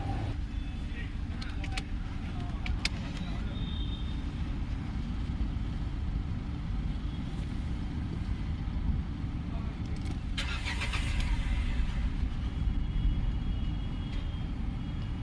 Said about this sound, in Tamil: வண்டி ஸ்டார்ட் ஆகுது, அப்படியே வண்டி அடைச்சி ஆஃப் ஆகிடுது.